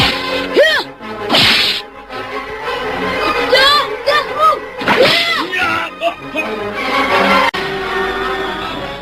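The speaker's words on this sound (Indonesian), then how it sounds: "suara ledakan cambuk yang susul-menyusul itu mengejutkan Kiai Pangon dan Jogobanyu" Repeated whip cracks in a fight scene, sharp snapping bursts in quick succession, loud and close, with swishes between them and shouting voices throughout.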